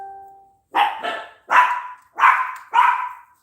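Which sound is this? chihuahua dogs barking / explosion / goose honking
chihuahua dogs barking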